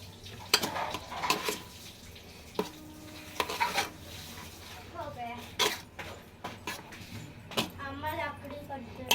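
Ingredients for a healthy sweet snack stirred in a pan, with spoon scrapes and clinks against the metal and soft sizzling in between, close by and under a running voice.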